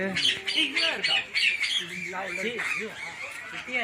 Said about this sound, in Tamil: பச்சை கிளியாக நிறையா இருக்குது